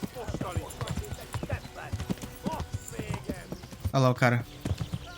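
Rhythmic hoofbeats of a galloping horse in the medieval video game Kingdom Come: Deliverance, a quick repeated clatter running under excited commentary, with a short whinny-like burst near the end.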